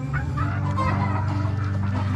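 A pure street-bred sweater gamecock rooster clucks close by in a steady run of low, throaty calls with no voices over it.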